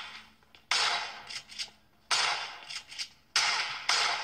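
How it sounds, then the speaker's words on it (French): Shotgun blasts in a video game, three loud sharp reports spaced about a second and a half apart, with softer clicks and clatter between them and no talking. "j'ai un fusil à pompe"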